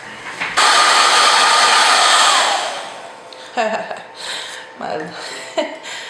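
A hair dryer roars loudly for about two seconds, then cuts off, followed by soft breathy vocal sounds and brief chuckling close by.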